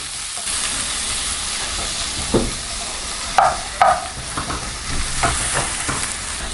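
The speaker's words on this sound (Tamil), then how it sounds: "இப்போ நம்ம வெங்காயம் போட்டுக்கலாம். பொன்னிறமாகிற வரைக்கும் நல்லா வதக்கிக்கணும்." Onions frying in oil in a pan for vegetable biryani, a steady broadband sizzle with a few louder scraping stirs of a spatula, close and continuous, no voices.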